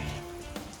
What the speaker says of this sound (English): we got a lot of rain coming down